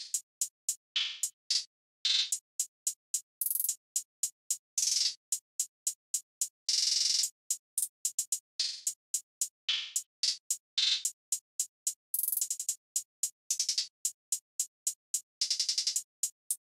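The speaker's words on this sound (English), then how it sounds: "this is how the finished hi-hat pattern is sounding like" A programmed trap hi-hat pattern in a beat, built from crisp, bright ticks in a fast steady pulse, broken up by quick stuttering rolls with varying velocities, playing alone with no voices.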